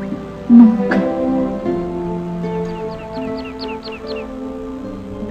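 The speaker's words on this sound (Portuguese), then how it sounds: "Um pássaro canta no galho de uma árvore." A bird on a tree branch sings a quick run of high, repeated chirps in the middle of the clip, fairly faint over sustained melodic music tones.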